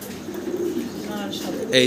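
Pigeons coo at a pigeon farm, a low steady murmur of several birds close by, with a brief brighter call near the end.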